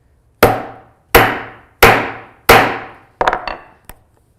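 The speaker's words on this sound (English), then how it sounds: "You can just hold that nice and flat and then hit it with the hammer." Four loud, evenly spaced hammer blows ring out on a grommet setting tool held flat, followed by a quicker rattling tap and one last light knock, all close by with no talking.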